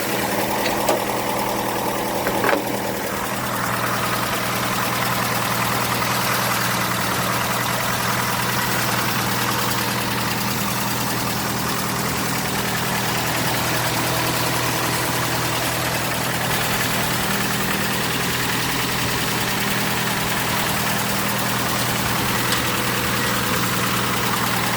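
A 1989 Dodge Dakota 2.5-liter four-cylinder engine idling steadily and close, with a low rumble and vibration and a faint ticking knock throughout.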